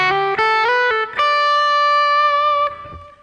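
A slightly driven electric guitar through a tube amp's clean channel on the edge of breakup plays a few plucked notes, then lets a chord ring out and sustain before fading.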